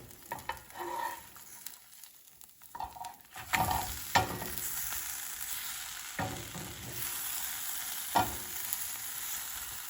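A quesadilla sizzles and fries in a pan, with scraping and a few sharp knocks as it is stirred and flipped, fairly quiet and close, without talk.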